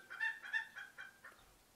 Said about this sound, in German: Draußen hört ihr, glaube ich, meinen Huhn gerade auch.